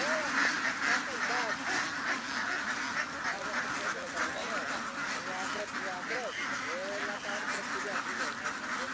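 A flock of ducks quacks steadily and densely while climbing into their pen at a duck layer farm, the nasal calls overlapping continuously at close range with a voice talking underneath.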